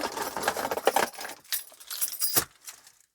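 A bunch of car keys for a Skoda Octavia Mk2 jangles and clinks close by in several quick bursts, the metallic rattles separated by short pauses.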